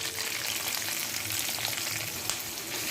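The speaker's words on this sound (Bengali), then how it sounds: "এবার ওই তেলে দিয়ে দিব পেঁয়াজ কুচি" Chopped onions dropped into hot oil left from frying chicken, a dense, close, steady sizzle that runs throughout without speech.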